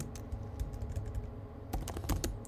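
JavaScript code being typed on a computer keyboard, a quick close-up run of light clicking keystrokes with a brief denser flurry near the end, and no talking.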